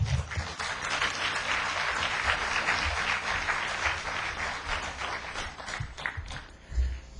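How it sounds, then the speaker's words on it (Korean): A seated audience applauds at an academic memorial conference, sustained dense clapping that holds steady for several seconds before thinning out near the end, with no voices over it. "나오실 때 크게 박수로 환영해 주시기 바랍니다."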